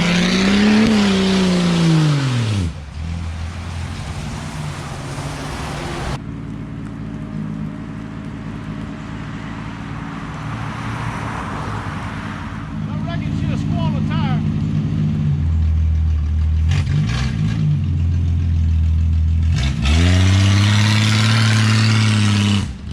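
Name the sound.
1962 Ford Falcon Tudor car driving on the road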